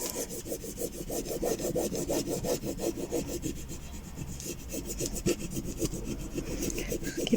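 Craft tape being rubbed down firmly with a lolly stick, a close run of quick rhythmic scraping strokes that keeps going throughout with no talking.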